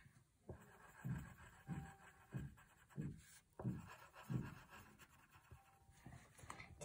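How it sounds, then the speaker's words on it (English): Pencil scratching across paper while coloring in a drawing of a snail, heard as a steady series of rhythmic back-and-forth strokes, close and fairly quiet, with no voices. "Now we can color it in."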